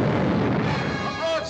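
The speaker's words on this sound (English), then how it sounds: "A broadside!" A ship's cannon broadside firing in a pirate adventure film: one dense, roaring barrage of booms that fills the whole clip at close, loud range.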